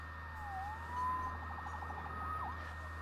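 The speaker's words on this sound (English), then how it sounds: "Saved by the siren." A police siren wails from the Spider-Man PS4 video game, one fairly faint rising and falling tone over a low steady hum, with no talking.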